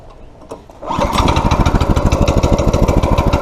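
A small go-kart engine sputters and then roars to life, running loud and close with a rapid, pulsing putter.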